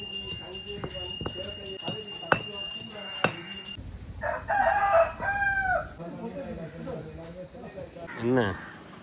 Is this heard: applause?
no